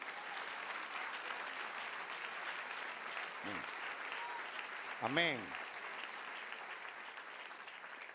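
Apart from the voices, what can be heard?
church congregation applauding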